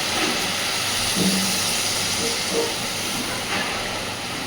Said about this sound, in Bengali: এই পর্যায়ে দিয়ে দিচ্ছি জল।